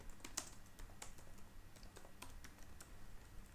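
Code being typed on a computer keyboard during an Angular programming tutorial gives quiet, irregular key clicks in short bursts with brief pauses, close and faint, with no speech.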